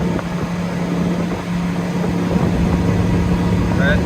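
A motorboat engine on a boat fitted with a test propeller drones steadily and loudly while running hard near top speed as the drive is trimmed up, its constant low hum unbroken throughout.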